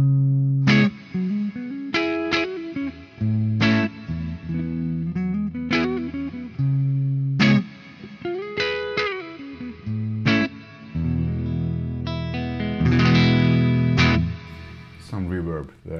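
Electric guitar through a Fender Twin amp model in the STL Tonality Howard Benson plugin, playing picked chords and single notes with distortion and reverb, loud and alone, ringing out in a sustained chord toward the end.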